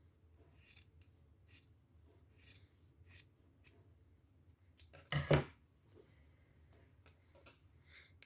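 Scissors trim excess fabric beside a seam on a crochet bag lining, giving a series of short, close rasping snips with pauses between, then a louder cluster of cuts, and no speech.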